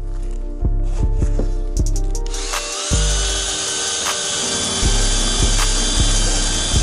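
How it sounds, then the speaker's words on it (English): A drill spins a wire brush bit against metal Mazda MX-5 Miata wiper arms, a loud whirring grind with a harsh scraping hiss and intermittent knocks, starting and stopping. "I'm going to use this wire brush drill bit."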